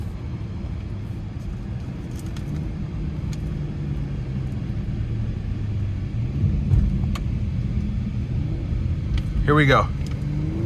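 A 2026 BMW 540i xDrive in sport mode pulls hard with a steady, loud engine and road rumble from inside the cabin, swelling toward the end, while someone speaks briefly over it.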